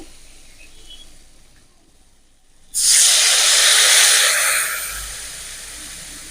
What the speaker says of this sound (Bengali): মশলা আলু কলা এবার দিয়ে দেবো জল